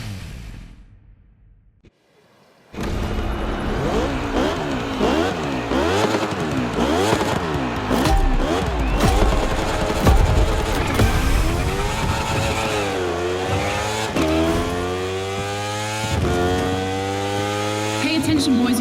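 Motorcycle engines in The Crew Motorfest video game roar into life after a brief quiet, then rev hard and loud through repeated gear shifts. The rising and falling whines layer over one another across a game race, with a voice faintly present.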